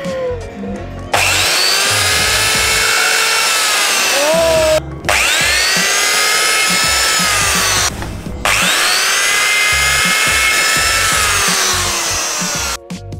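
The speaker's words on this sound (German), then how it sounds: "Volle Kanne voraus und ab geht die Bohrung." A power drill bores through a ski for a homemade snowbike, three long, loud, steady whining runs separated by brief pauses, close up.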